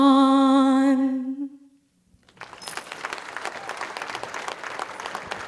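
A sustained sung note at a Kwanzaa celebration fades out, and after a short pause an audience breaks into dense, steady applause that continues to the end.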